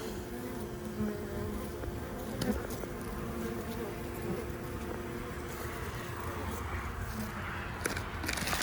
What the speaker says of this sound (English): I see bees crawling.